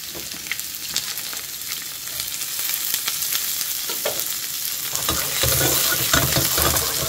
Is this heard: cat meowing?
no